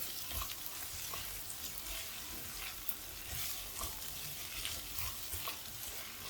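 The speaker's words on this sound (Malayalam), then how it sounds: "പൊട്ടറ്റോ നല്ല എണ്ണയിൽ ഇങ്ങനെ വഴറ്റിയെടുക്കണം" Potatoes sautéing in oil with fenugreek leaves for a methi potato dish, a continuous soft crackling sizzle with irregular stirring scrapes and taps, quiet but close.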